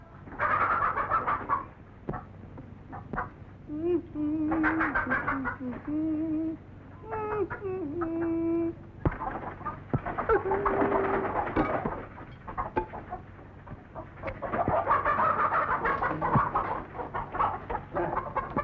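Several chickens cluck and call at close range, with scattered short clucks and a few drawn-out squawks overlapping in a busy farmyard chorus.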